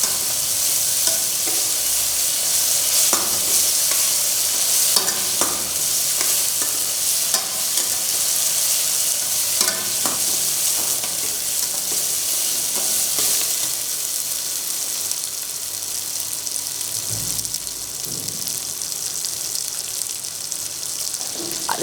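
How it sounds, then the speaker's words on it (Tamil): Ginger garlic paste sizzles steadily in a hot pan while a spoon stirs and scrapes through it, a continuous frying hiss close by, during preparation of a Tamil turkey pepper fry. "இது கூட அரைச்சி வச்ச இஞ்சி பூண்டு விழுதையும் சேர்த்து நன்றாக வாசனை போகும் வரை வதக்கணும்."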